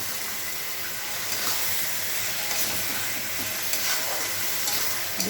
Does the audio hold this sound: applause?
no